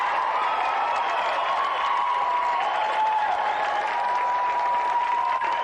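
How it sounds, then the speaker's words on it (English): Sustained applause from a large TV game show studio audience for a guest, dense steady clapping with a faint murmur of crowd underneath, continuous throughout. "Round of applause, please, for tonight's special guest, Tony Slattery."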